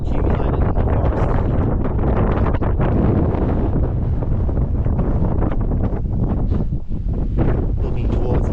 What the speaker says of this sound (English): Quite windy, which is going to dry out the sweat